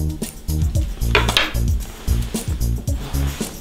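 Spoonfuls of chocolate powder go into a blender for a Vodka K.O. cocktail, heard as close clinks and knocks of a spoon against the container, repeated in an uneven rhythm with no speech.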